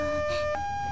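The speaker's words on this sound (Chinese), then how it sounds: "救护车发动了，鸣笛开始大声奏响" An ambulance siren starts to wail as the vehicle sets off, a loud steady tone that jumps to a new pitch partway through, with no voices over it.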